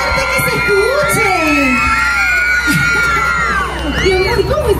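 A crowd cheers, whoops and shouts in support of a young singer, winner of La Voz Kids, at a live event; children's voices yell loudly and continuously throughout, close and energetic.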